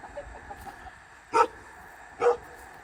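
Chickens in a coop on a hillside garden plot in Ulsan, two short, fairly close clucking calls standing out over a quiet outdoor background with faint ambient noise.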